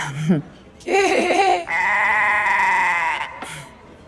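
A goat bleats in loud, wavering, nasal cries, several close calls with pauses between, the longest held for about two seconds.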